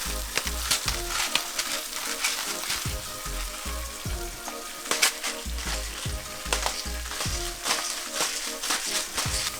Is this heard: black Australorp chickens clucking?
no